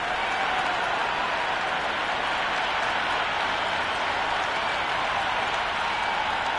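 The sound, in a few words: stadium crowd cheering in Cricket 26 video game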